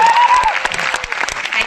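Audience applause at a live interview event in Lucknow, a dense burst of clapping from a crowd lasting under two seconds, loud and close, with a voice briefly audible at the start.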